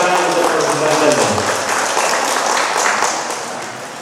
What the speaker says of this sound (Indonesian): Tepuk tangan untuk Provinsi Banten.